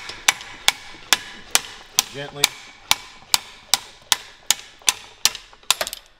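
Sharp metallic knocks repeat at a steady pace, about a dozen hard slide hammer blows close by knocking out a bearing from a 2015+ Chevy Colorado axle, with a brief spoken word in the middle.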